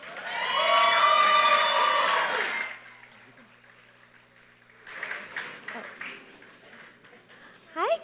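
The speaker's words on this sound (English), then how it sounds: "Please give a warm round of applause to Kristen Alm Kamakahi." Guests at a New Year's banquet burst into applause mixed with whoops and cheers for a few seconds, then the hall falls quiet before scattered voices and a few more shouts return.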